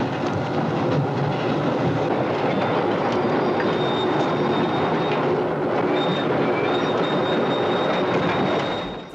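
A train rolls steadily through a 1972 horror film scene, a dense, continuous rumble of wheels on track with faint high squeals riding over it, loud and unbroken throughout.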